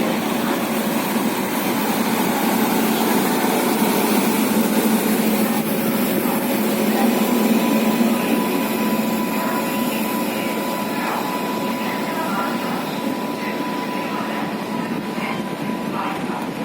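A train engine rumbles and hums steadily at a railway station platform, a continuous low drone with faint background noise and no clear speech.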